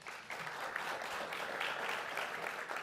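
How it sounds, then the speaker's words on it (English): Steady applause from an audience at an affordable housing announcement in Buffalo, a dense wash of many hands clapping evenly at moderate distance for the whole stretch, with no voices rising above it. "So Senator Kennedy, let's give him a round of applause."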